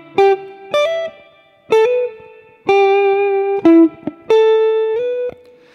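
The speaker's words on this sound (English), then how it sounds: "The first part, which is this part here, sounds like this slowly." Electric guitar plays the opening part of a riff slowly and alone, a handful of clean sustained notes and short stabs with slight effects, each note ringing before the next.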